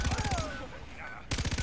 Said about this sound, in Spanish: Estoy escuchando disparos de estos que me rozan la oreja y no me gusta nada.